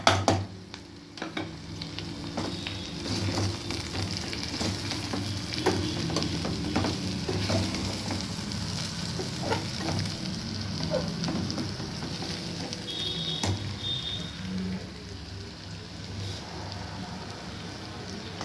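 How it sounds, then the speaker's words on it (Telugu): Salt, chili powder and turmeric go into a hot frying pan, a continuous crackling sizzle with scraping stirring strokes throughout and a brief high squeak partway through. "సిమ్ పెట్టుకొని ఈ ఆల్ మొత్తం ఉప్పు, కారం, పసుపు మొత్తం ఇట్లా వేసేసుకోవాలి ఫ్రెండ్స్"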